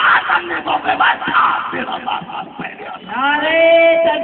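A crowd at a religious gathering bellows slogans in unison, loud rhythmic shouted phrases from many voices, swelling into a sustained collective cry at the end.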